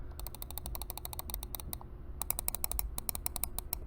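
Rapid, crisp clicking of a Razer Orochi V2 gaming mouse, in quick runs of sharp, close taps with a short pause midway, over a faint low background hum.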